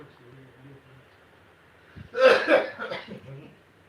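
A short cluster of harsh coughs rises out of quiet background murmur, a few rough bursts close together, then fades.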